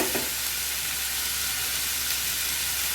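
Onion and potato curry with turmeric sizzles steadily in a pan while being mixed, a continuous close frying hiss with a brief stirring scrape at the start.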